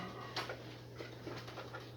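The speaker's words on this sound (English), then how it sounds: "Sounds like dog on there" A dog panting and whimpering indoors in a home kitchen during cooking, soft short breaths and faint whines repeating over a steady low hum.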